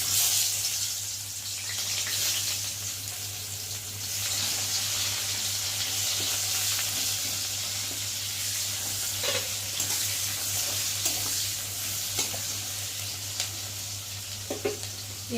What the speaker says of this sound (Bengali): ওই তেলের মধ্যেই আলুগুলো দিয়ে দেবো